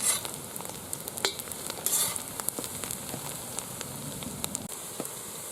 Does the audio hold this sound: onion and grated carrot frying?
yes